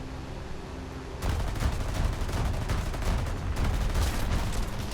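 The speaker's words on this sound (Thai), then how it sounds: "ผมยิงมัน ยิงปืนใหญ่ไม่โดนมันเลย" Aircraft cannon fire in War Thunder during a propeller-plane dogfight between a P-51 and a Focke-Wulf. A dense, loud burst of rapid shots starts about a second in and rattles on continuously over engine drone to the end.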